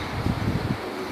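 Pigeons from Ustad Akmal coo on a rooftop in a few soft, low, repeated calls, nearby and partly buried under steady broadband background noise.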